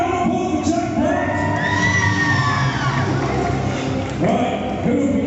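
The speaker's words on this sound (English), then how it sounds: "Yes, round of applause for Jack Black!" A Comic Con crowd in Blackpool cheering and whooping for Jack Black, a loud continuous wash of voices with rising yells and shouts throughout.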